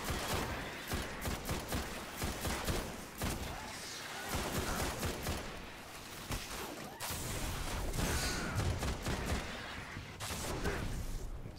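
Rapid gunfire and explosive bursts from the Destiny game, Rise of Iron expansion, crackle in dense volleys at moderate loudness, with brief lulls, whooshes and mixed game effects throughout.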